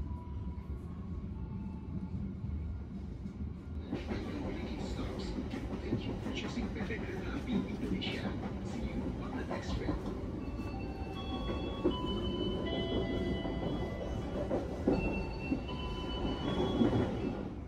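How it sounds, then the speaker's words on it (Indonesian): The Tegal Bahari business-class train rumbles at Brebes station in Java, a low rolling rail noise swelling suddenly after a few seconds into clattering carriage sounds with squeals and thumps, while people talk nearby. "Stasiun Brebes ini merupakan pemberhentian terakhir kereta Tegal Bahari sebelum tiba di stasiun Tegal."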